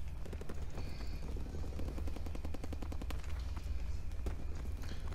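Gunfire in Call of Duty WW2, rapid rhythmic machine-gun bursts rattling almost nonstop with scattered single shots, loud and sustained amid a busy battle din.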